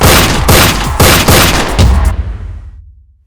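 Gunshots in a comedy sketch: a quick volley of loud, sharp bangs fired in succession, ending in a booming tail that rings out and fades to silence.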